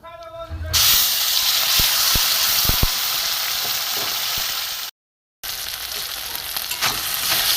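A paste of soybeans soaked in milk and sugar syrup frying in a pan: a loud, close, sustained sizzle with a few sharp pops, briefly cut to silence before the hiss resumes.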